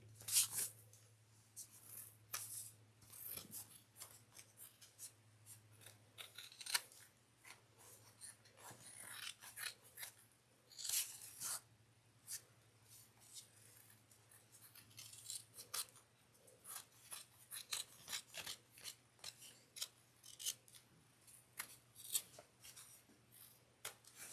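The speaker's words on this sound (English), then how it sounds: "So let's trim all the excess." Scissors trimming excess material close up, with a long series of crisp snips and rustling handling noises, quiet and irregular over a faint low hum.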